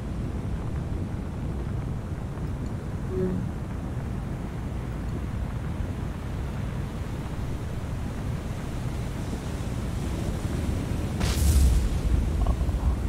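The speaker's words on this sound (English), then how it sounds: "Can we get a magazine explosion" A warship's ammunition magazine explodes in War on the Sea, a heavy, booming blast rising late out of a steady roar of wind, sea and fire aboard a burning vessel.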